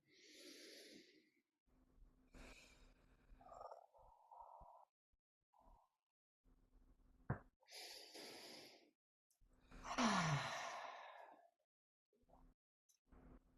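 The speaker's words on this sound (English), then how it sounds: "Two more big breaths together." A group breathing deeply together, slow inhales and long exhales repeated in a rhythm of several big breaths with pauses between, close and fairly soft, with no talking.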